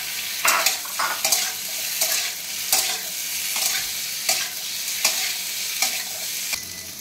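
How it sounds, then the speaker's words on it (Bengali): Diced potatoes fry in a pan with green chillies, a steady sizzle broken by regular stirring scrapes about every second, close and fairly loud with no talk. "ডুমো ডুমো করে আলুগুলো কাটা ছিল সেটা একটু ভেজে নিচ্ছি।"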